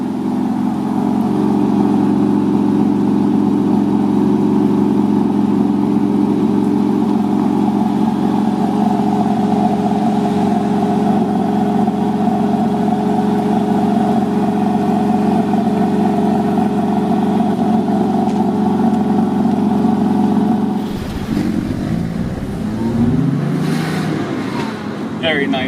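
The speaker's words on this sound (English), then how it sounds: "I hope this microphone can pick up the sound of this engine" A classic Porsche Boxster S engine runs at a loud, steady idle for a long stretch, then its tone shifts and wavers near the end as the revs change.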